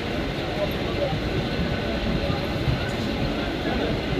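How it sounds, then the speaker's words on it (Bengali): A train pulls into Giri Maidan station, a steady broadband rumble of wheels and running gear holding at constant loudness throughout, close by and continuous with no clear pauses. "জাস্ট গিরি ময়দান স্টেশনে ট্রেন এসে গেছে"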